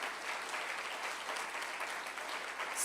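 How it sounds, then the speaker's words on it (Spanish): Church congregation clapping loudly at a pastor's call during a Spanish-language sermon, a dense, steady wash of applause that holds evenly throughout and swells slightly at the end. "Dale un fuerte aplauso al Señor."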